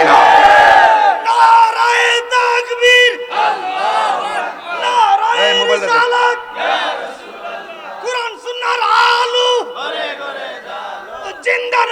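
A large crowd at an Islamic mahfil chants slogans in loud unison, call-and-response bursts answering a leading voice, with swelling cheers between rounds.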